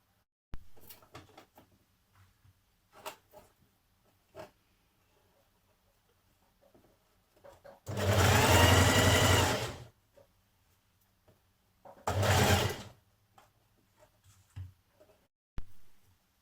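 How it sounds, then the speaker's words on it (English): Sewing machine stitching the side seam of a Burda 6055 smock dress, two bursts of rapid mechanical whirring, a long run of about two seconds and a shorter one, close by, with light handling clicks between. "you're going to sew up the side seam"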